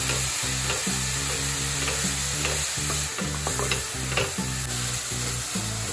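Grated carrot sautés and is stirred in hot ghee, a steady sizzle with scraping that sits under loud background music throughout.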